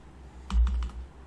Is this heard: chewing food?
no